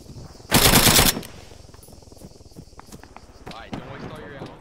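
Gunfire in the video game Arma 3, a loud burst of automatic fire followed by fainter scattered shots and footsteps while people talk.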